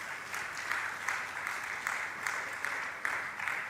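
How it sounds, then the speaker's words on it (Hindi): Audience applause at a Jain religious question-and-answer gathering, a soft, steady clapping with slight rhythmic swells, fairly faint and unbroken. "अनुमोदना करें आप लोग तालियों के साथ में"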